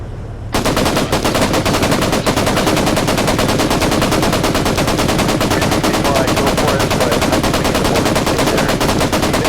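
Sustained, loud machine gun fire in a war game battle, a relentless stream of rapid shots that starts abruptly and keeps going without pause, dense and close.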